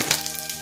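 Cumin seeds sizzle in hot oil with bay leaf in a pan for papaya mutton curry, a steady close crackling fry with brief bursts and no voices.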